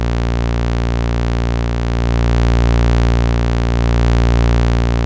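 A Moog Grandmother or Behringer Model 15 synthesizer plays a sustained sawtooth tone with added distortion, making it loud, steady and buzzy, with a gentle slow swell in level and no talking.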